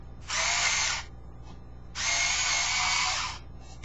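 Small electric screwdriver backing out hard drive screws inside an Apple iMac G3, two loud whirring bursts of about a second each separated by a short pause, close and alone.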